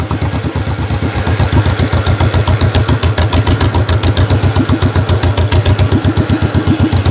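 Engine of a 1949 John Deere tractor chugging in first gear, a loud, close, steady rapid putt-putt pulse that firms up after the first second and runs evenly throughout, with no voices.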